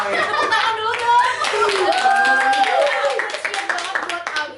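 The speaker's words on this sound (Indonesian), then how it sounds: "Tepuk tangan dulu dong" Hand clapping from a small group at a youth podcast recording, a brisk flurry of claps mixed with voices and excited exclamations talking over it.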